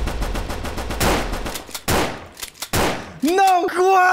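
Rapid pistol fire in a video game, a quick run of sharp shots followed by a few scattered bursts, ending with a raised voice speaking over the action.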